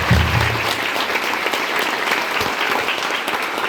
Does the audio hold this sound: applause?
yes